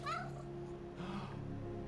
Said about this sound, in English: The cat from Stray, boys.